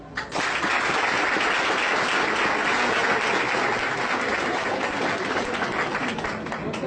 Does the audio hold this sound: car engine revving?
no